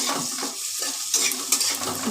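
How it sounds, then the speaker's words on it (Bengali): Chopped onions fry in a pan over lowered heat, a close, steady sizzle broken by scraping stirs and light clinks of a utensil against the pan. "পেঁয়াজ কুচিগুলোকে আমি লাল লাল করে ভেজে নিচ্ছি"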